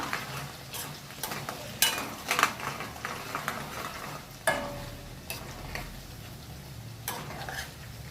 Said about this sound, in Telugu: ఈ రెండు మనకు నూనెలా వేగాలి ఉడకాలి కూడా మంచిగా వేగినాయి